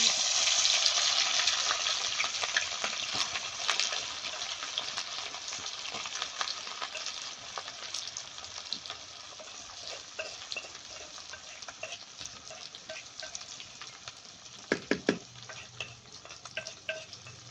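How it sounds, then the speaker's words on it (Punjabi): Coarsely crushed ginger and garlic frying in hot oil, a loud bright sizzle that gradually softens, with scattered crackles and a few stirring clanks near the end, no voices. "ਤੇ ਹੁਣ ਇਹਦੇ ਵਿੱਚ ਪਾ ਦਿੰਦੇ ਆ ਜੀ ਅਦਰਕ ਤੇ ਲਸਣ ਜਿਹੜਾ ਆਪਾਂ ਦਰਦਰਾ ਕੁੱਟ ਕੇ ਲਿਆ"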